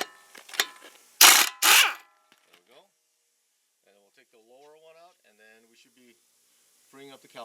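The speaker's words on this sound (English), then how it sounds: "I'm going to put my little shorty impact on it." Short cordless impact wrench zipping a 17 mm bolt behind an aluminum brake caliper on a 2015 Kia K900 5L during a front brake job: two loud, close rattling bursts, then quiet, with someone talking afterward.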